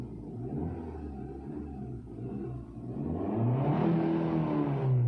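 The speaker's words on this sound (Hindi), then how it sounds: "और अगर मैं रेव भी करने की कोशिश करूं," Maruti Suzuki Ignis engine heard from inside the cabin, a steady idle hum that swells into a louder rising rev partway through, with no talking over it.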